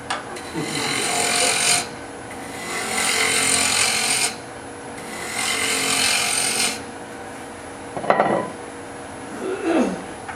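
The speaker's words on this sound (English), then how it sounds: "thought I would go ahead and drill in with the Forstner bit" A Forstner bit bores into hardwood turning on a lathe, giving three long grinding, rasping passes with brief pauses between them, followed by a couple of short knocks and scrapes.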